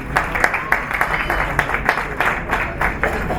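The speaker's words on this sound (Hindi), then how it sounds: "सलमान साहब के लिए बहुत सारी तालियां।" Applause from a literary festival audience in Karachi, dense and steady clapping that rises and falls over a few seconds, with a low rumble beneath.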